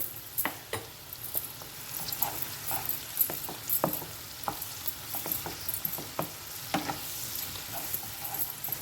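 Onions stir-fried with black pepper powder on a high flame, a soft sizzle broken by frequent sharp spatula clicks and scrapes against the pan, fairly quiet, no voices.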